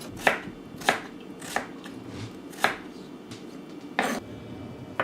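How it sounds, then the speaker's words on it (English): Chayote squash is cut with a potato peeler, making about six crisp, evenly spaced scraping strokes close by in a quiet kitchen. "So just cut the chayote squash with a potato peeler."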